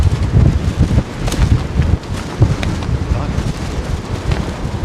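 Strong wind buffets the microphone at London Heathrow Airport, a steady loud rumbling roar with gusty surges throughout.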